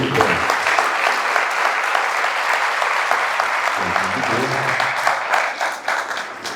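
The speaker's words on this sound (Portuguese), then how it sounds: "Aí você pode dar uma salva de palmas aí." A church congregation bursts into applause after a prayer, a broad, continuous clatter of many hands, loud and steady for several seconds before tapering off, with a voice briefly heard partway through.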